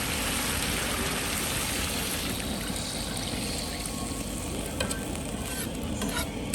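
Pork trotters in a pan for crispy sour-soup pig's feet, bubbling and sizzling loudly and steadily after water goes in, a dense continuous boiling hiss close up with no voices.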